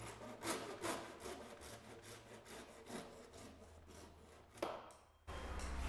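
Wolfcraft Ryoba Japanese pull saw cutting through wood, quick rhythmic rasping strokes close up and steady, ending with a sharp final stroke as the cut finishes.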